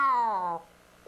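A cat gives one clear, drawn-out meow that slides downward in pitch, heard close for about half a second and then falling quiet.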